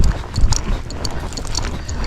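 Hoofbeats of a young Tennessee Walking Horse being ridden outdoors, a loose, uneven run of soft clopping steps, fairly close, over low rumbling background noise with no voices.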